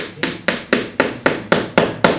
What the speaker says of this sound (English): use my hammer.